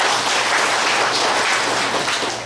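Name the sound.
audience applause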